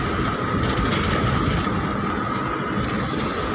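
Continuous rumble and rattle of a light rail train in motion near Quiapo, Manila, heard from inside, steady and moderately loud.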